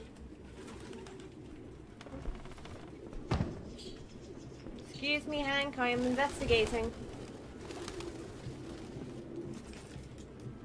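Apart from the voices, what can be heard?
pigeons cooing in the video game Detroit: Become Human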